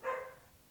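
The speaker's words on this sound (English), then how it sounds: "I think that's my dog and someone is making a delivery" A single faint, distant bark from a dog reacting to a delivery, one short muffled yelp heard from another room.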